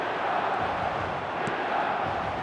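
Broad, steady murmur and roar of a packed stadium crowd in the eFootball 26 football video game, a continuous dense wash of voices with faint chanting, moderately loud and without any clear talk.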